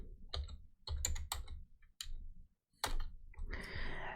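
Keys clatter on a Windows PC keyboard in a short burst of close, crisp typing with brief pauses between clusters of keystrokes.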